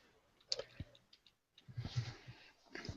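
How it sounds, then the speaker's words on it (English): Someone types on a computer keyboard, giving quiet, close, irregular clicks and taps in short bursts separated by brief pauses. "I'm typing now."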